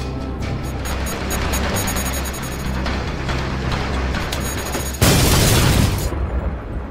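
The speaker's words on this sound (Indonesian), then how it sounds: "dia mendengar ada sebuah ledakan yang posisinya tidak jauh dari sana" Explosion in a superhero drama, a remote bomb going off: a sustained rumbling roar under music and effects, with a sudden loud, broad blast near the five-second mark that then fades out.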